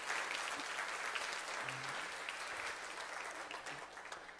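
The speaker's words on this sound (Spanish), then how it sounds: "Te invito a que le demos un fuerte aplauso a mi hermano y mi hermana" Applause from a church congregation during a Sunday worship service, a dense, steady wash of many hands clapping at a distance, holding evenly for the whole stretch with no talk over it.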